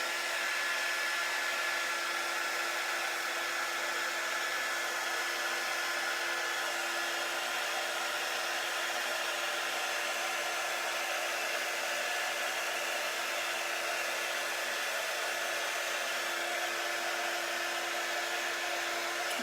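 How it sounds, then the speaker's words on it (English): A blow dryer runs steadily and close by, drying freshly applied paste, its constant airy whine and rushing hiss holding at the same loud level without a break and with no voices over it. "You could use a blow dryer to dry this."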